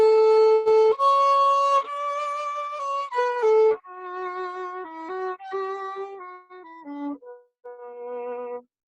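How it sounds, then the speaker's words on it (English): A violin plays a brief tune alone, bright bowed notes moving in short connected phrases, clear and close with a few quick pauses between passages. "And the violin sounds like this."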